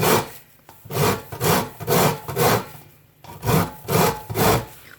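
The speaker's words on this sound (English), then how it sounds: "not everybody knows to grate a corn" Fresh corn being scraped against a hand grater to make grater corn for pudding: about eight steady rasping strokes, close and clear, with a short pause midway and no voices.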